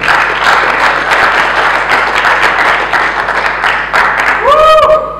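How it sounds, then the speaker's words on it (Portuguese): A conference audience at an entrepreneurship event in Portugal claps loudly for a speaker, sustained close applause that carries on for the whole stretch, with a short tonal electronic sound rising near the end. "Uma salva de palmas para ele, uma salva de palmas para ele."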